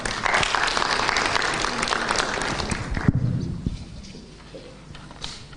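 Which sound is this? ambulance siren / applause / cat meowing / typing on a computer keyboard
applause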